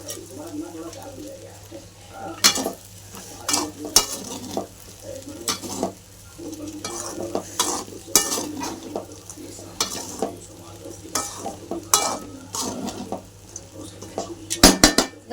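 Sabudana khichdi stirred and sautéed in a pan over low flame, with repeated clinks and scrapes of a spoon against the metal pan over a soft background sizzle.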